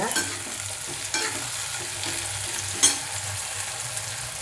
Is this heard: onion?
yes